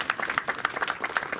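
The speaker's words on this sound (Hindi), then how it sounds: "कृपया तालियां बजती रहें।" An audience claps at a community event held by an Inner Wheel club with CRPF jawans, a dense, even patter of many hands at moderate distance with no voices over it.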